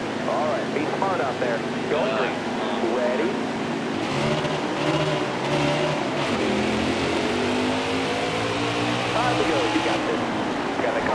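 NASCAR race cars circling the short track at Martinsville, engines droning and revving in a steady, continuous roar, with voices talking over them.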